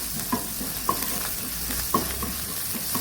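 Garlic and ginger fry in a pan for spicy prawn pulichat, giving a steady close sizzle broken by a few light metallic clinks of a stirring utensil.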